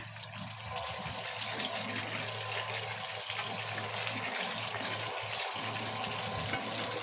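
Steady gushing water from a tap onto chicken feet being washed, a continuous hiss and splash that stays even throughout with a low background hum.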